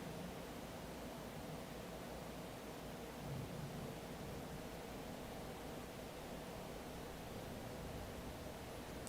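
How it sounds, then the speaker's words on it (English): Very loud rain and thunder from a late-night electric storm, heard as a dense, steady roar of downpour with a low rumble swelling briefly partway through and no voices. "just very, very loud rain and thunder"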